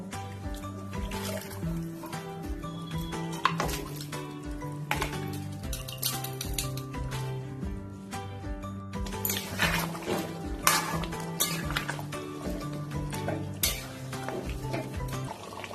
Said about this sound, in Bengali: এবারে আমি মটনটা কড়ার মধ্যে ঢেলে দেবো